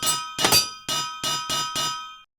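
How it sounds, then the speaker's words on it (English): Forge hammers in the Minecraft modpack All The Mods 10 strike six times in quick succession, each a sharp bright metallic clang with a short ringing tail, loud and close, with no voices. "you do want to place these the forge hammers for these guys also"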